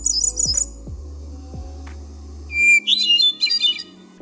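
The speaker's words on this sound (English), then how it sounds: "if you point your camera to one of the Wingspan cards, the app will play the bird's song." Recorded bird song played back from a phone app during a Wingspan board game, giving a few clear chirps early on and a burst of bright twittering near the end, with low thumps between them.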